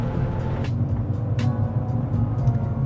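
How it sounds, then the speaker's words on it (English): A Mazda Miata spec race car engine drones steadily during a race, a continuous low rumbling hum with slight wavering, heard from inside without voices. "RPMs are building, going to third gear"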